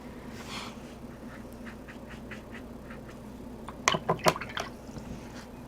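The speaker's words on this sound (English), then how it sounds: "I'm rinsing off my brush" A watercolor paintbrush is swished and rinsed in a water cup, giving soft wet dabbing and a short burst of sloshing and clinking near the end, close and quiet with no talking.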